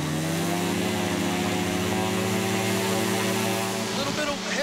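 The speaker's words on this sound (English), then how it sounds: "All right, motor's up and running." A Pinnacle paramotor engine idles before takeoff in the western North Carolina mountains, giving a loud, steady propeller drone with strong even harmonics that holds close and constant throughout.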